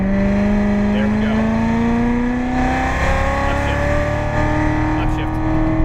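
A Corvette Z06 engine climbs steadily in pitch as it accelerates hard around the Las Vegas Motor Speedway track, loud and continuous, with an instructor's voice coaching over the roar.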